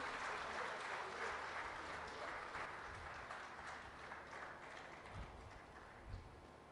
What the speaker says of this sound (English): let's give a resounding applause to him, please